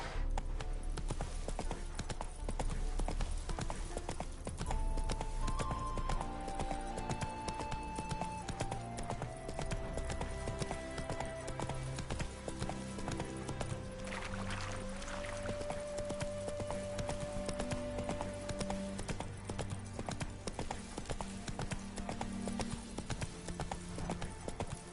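Roach, a horse in The Witcher 3, gallops with a steady clip-clop of hooves running continuously under a tonal musical score, with no voices heard.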